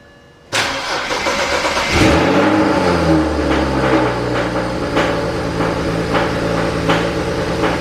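A single-turbo BMW 335i with a freshly jumped battery cranks briefly, catches with a loud flare, then drops into a steady idle with faint ticking.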